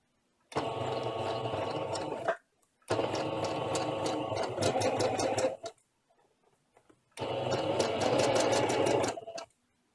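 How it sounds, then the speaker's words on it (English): A sewing machine stitching embellishments onto handmade ribbon runs in three steady bursts of rapid mechanical chatter, close and fairly loud, separated by short quiet pauses. "So I just sew randomly things all over the place."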